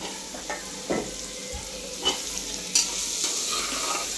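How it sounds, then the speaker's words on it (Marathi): Continuous soft sizzling from a pan with a few louder bursts and clatters as potatoes are added and stirred, close by and without talk. "तर आता आपण हे बटाटे टाकून घेऊ"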